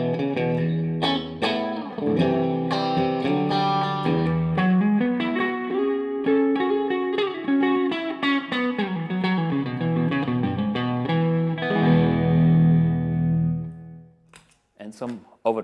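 Clean electric guitar through a BluGuitar NANOCAB cabinet plays a flowing run of chords and single notes, ringing out before ending in a few quiet scratches.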